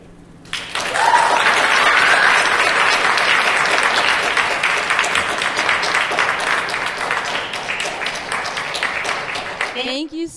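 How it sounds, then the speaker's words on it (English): A large TEDx Youth audience bursts into sustained, dense applause that holds steady for several seconds before tapering off, with a voice briefly at the end. "give him another round of applause"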